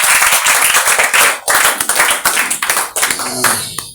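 A church congregation claps and applauds together, a loud, dense burst of rapid hand claps that fills the room with steady rhythm, briefly dips, then carries on before thinning out at the end.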